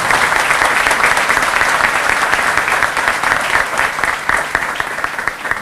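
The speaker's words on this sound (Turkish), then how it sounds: "alkışlarınızı Erdem Egemen kardeşime buraya alarak" A crowd applauds steadily, a dense wash of clapping that holds at a fairly even level throughout.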